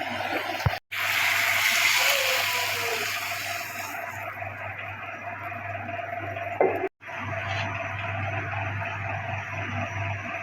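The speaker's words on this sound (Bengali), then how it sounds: "জল দিয়ে দেবো।" Water pours steadily into a pan of potato and egg curry, a continuous splashing gush that is cut off by brief gaps, over a low background hum.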